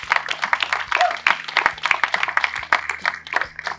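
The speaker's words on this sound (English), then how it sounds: "Let's give Audrey another round of applause" Audience applause for Audrey at a launch event, scattered crisp claps rising and falling across the room for the full stretch, with a faint voice or two in the background.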